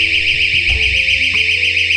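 A KERUI door stop alarm shrieks with a loud, continuous, piercing electronic tone that holds steady throughout, with faint low thumps underneath.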